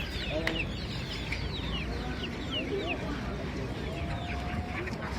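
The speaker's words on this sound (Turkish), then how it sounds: "Şu tavuk mesela." Chickens cluck busily at a crowded Turkish animal market where poultry is sold, a steady overlapping chorus of clucks and squawks with a rooster-like call amid murmuring crowd voices close by.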